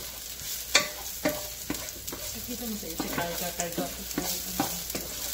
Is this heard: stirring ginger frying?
yes